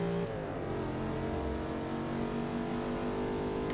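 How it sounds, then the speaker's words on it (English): Mercedes-AMG GT S engine racing in Forza 6, a steady, loud droning roar with sustained tonal harmonics as the car holds high revs under power, continuous throughout with no speech. "Racing the AMG GTS."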